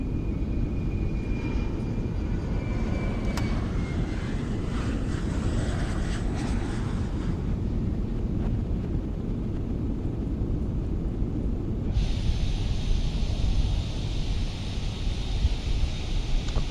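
An Airbus A380 with its thrust reversers deployed in Microsoft Flight Simulator 2020 produces a continuous roaring jet rush with shifting whine, steady and fairly loud throughout with no talking.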